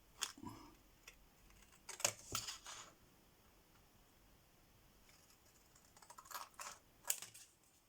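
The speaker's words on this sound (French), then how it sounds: "il n'y a plus qu'à découper autour. On va prendre ces ciseaux" Scissors snipping around the edge of paper for a black-themed scrapbooking page, heard as sharp close clicks and crisp cuts in two bursts separated by a quiet pause, with no talk.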